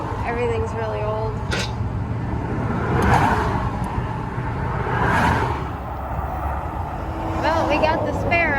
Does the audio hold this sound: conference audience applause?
no